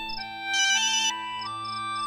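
A phone rings with a bright electronic ringtone melody, fairly faint and repeating, with no talking over it.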